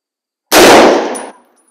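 A single loud rifle shot from a Browning BAR semi-automatic in .30-06, a sharp broadband crack that rings out and decays over about three-quarters of a second, heard alone against silence.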